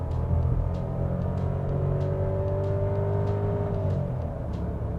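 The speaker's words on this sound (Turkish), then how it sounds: "motor sesi de içeri çok fazla gelmiyor" Cabin view of a VW Polo accelerating hard in sport mode with the pedal floored, a steady muffled engine drone rising slightly in pitch under strong road rumble, well insulated and fairly quiet inside.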